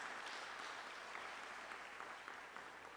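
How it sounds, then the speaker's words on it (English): An audience at a memorial service applauds, a faint, even patter of clapping from the room that runs steadily for about three seconds without speech. "Let's give him a round of applause because he did that so well."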